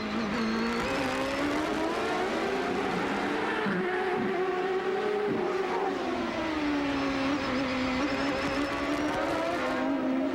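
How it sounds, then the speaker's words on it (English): An onboard CART race car at the 1996 Detroit street circuit screams at high revs, its engine pitch rising and falling through gear changes and corners, loud and continuous with no talk. "On board once again with Bobby Rahal"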